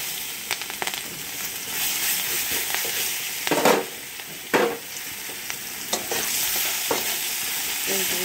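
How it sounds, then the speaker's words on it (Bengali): Onions sizzle in oil in a kadai after fish has been fried and lifted out, a continuous crackling hiss broken by scraping stirring strokes, with a few louder clanks of the utensil. "এবার দেখো কড়াইয়ের মধ্যে পেঁয়াজ দিয়ে দেবো।"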